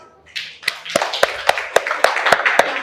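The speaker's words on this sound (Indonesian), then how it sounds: "Tepuk tangan untuk kelompok." A classroom group claps for a team of students in a few short, sharp claps that quicken into a steady rhythm of roughly a dozen close, distinct hand claps, with light murmuring behind them.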